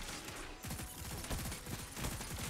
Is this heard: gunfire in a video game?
yes